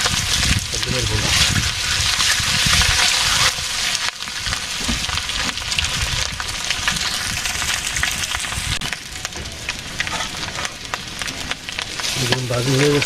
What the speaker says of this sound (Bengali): সরিষার তেল দিয়ে রান্না, আজকে খুব মজা করে ডিম ভাজি করবো